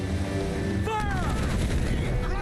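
Naval cannon fire in Assassin's Creed IV: Black Flag, with heavy booming shots rolling under a dense battle din of creaking ship and sea noise, steady and loud without clear gaps.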